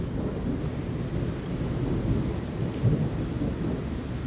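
A lightning storm with low rolling thunder rumbling continuously over steady rain, the rumble swelling in a few places, heard from fairly close with no voices.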